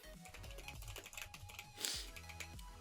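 Rapid typing on a computer keyboard, a steady stream of close, light key clicks with one slightly louder clack near the end, heard alone without talk.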